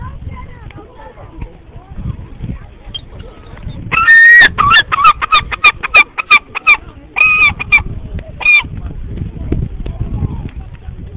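Seagulls being fed by hand call out in a quick cluster of sharp, loud squawks and cries close by, after a stretch of outdoor rumble and faint background voices.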